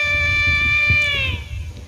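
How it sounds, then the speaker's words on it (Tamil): A cat gives one long, clear, drawn-out meow close by, a bright tonal cry that bends downward at the end over a low rumble of background noise. "ஏதோ பூனை இருந்த மாதிரி இருக்கு."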